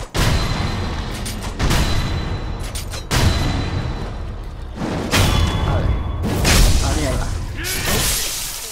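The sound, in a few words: firecrackers exploding in the video game Sekiro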